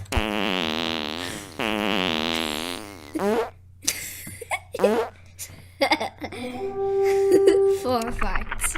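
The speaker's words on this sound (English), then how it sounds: "4 farts. 4 fartos in a row." Four fart sounds in a row during a Dungeons and Dragons session, loud and close, with two long drawn-out ones followed by shorter bursts, and talk mixed in between and afterward.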